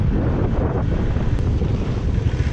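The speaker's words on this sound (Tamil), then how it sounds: "ஆனால் காற்று தான் வந்து எதிர்காற்றுல செம்ம ஃபாஸ்ட்டாக அடிக்குது" Strong wind roars at a beach in the aftermath of Cyclone Nivar, a loud, steady rush of gusts buffeting the microphone with surf-like noise and no voices.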